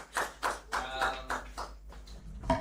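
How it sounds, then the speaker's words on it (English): Workshop audience at a university clapping for a team, a few separate bursts of hand claps in a loose rhythm, fairly faint in a room. "They deserve a hearty clap."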